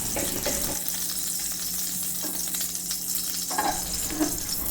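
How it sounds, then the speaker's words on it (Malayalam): Ghee warming in the same pan used to roast jackfruit seeds for payasam, giving a steady soft sizzle and faint crackle with a few light stirring clinks, close and continuous. "അത് തന്നെ ഒന്ന് അടുപ്പത്തേക്ക് വെച്ചിട്ട് നമുക്ക് അതിലേക്ക് കുറച്ച് നെയ്യ് ഒഴിച്ചു കൊടുക്കാം"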